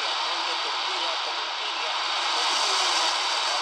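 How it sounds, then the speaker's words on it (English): ClooBlut RD218 portable radio tuned to a shortwave band around 10 MHz, giving a steady hiss of static with only a faint, barely emerging signal, even and unbroken throughout. "I hear just a little faint signal there."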